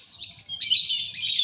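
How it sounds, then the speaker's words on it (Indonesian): Caged canaries and lovebirds chirping, a bright continuous twittering warble that swells louder halfway through, close and without talk. "untuk lo ngerawat burung segini banyak nih"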